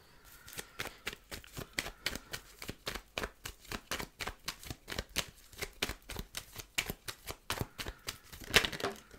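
Oracle cards, a Gulliver Lenormand deck, riffled in a quick steady run of crisp slaps for several seconds, close and dry, with a few cards slipping out near the end.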